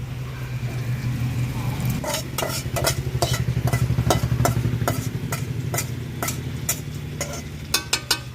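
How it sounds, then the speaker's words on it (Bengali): Marinated chicken drops into a pan of lightly fried onions, bursting into loud sizzling followed by repeated sharp scrapes of a spatula stirring against the pan. "এবার এই যে ম্যারিনেট করে রেখেছিলাম মাংসটা কিছুক্ষণ তো সেটা এবারে দিয়ে দেবো"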